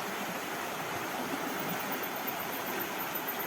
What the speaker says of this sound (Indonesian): Nah, airnya mengalir seperti itu ya guys.